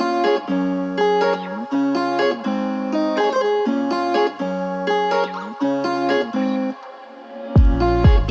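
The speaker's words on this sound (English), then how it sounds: "So the track starts out with some acoustic guitars playing that sound like this." Programmed acoustic guitars from a Kontakt sample library strum a chord progression in steady rhythmic patterns with a bright, slightly effected tone, followed by a brief low, thumping swell at the end.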